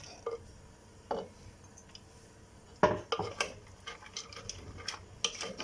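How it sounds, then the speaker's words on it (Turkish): Spoon scraping and knocking against a clay güveç pot while dried beans with pastırma are stirred, sparse clinks early then a busier run of close metallic taps and scrapes. "İyice birbirine karıştırıyorum"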